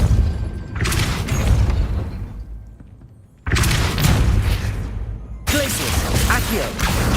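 Depulso spells cast in Hogwarts Legacy, three loud booming blasts with sudden onsets, each followed by a sustained rumbling roar that fades before the next.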